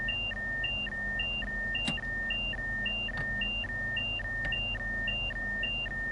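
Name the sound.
train cab warning beeping in video game Train Sim World 3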